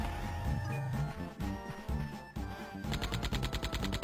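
Rapid gunfire from a video game rattles over a music track, with bursts of shots through the middle and a fast repeating volley of sharp reports toward the end.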